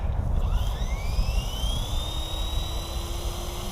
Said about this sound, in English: So we're gonna spool up.